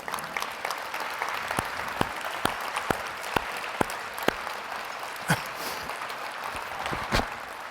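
Applause from a crowd at a university dean's welcome-back reception, a scattered patter of claps with sharp individual hand claps standing out, steady throughout.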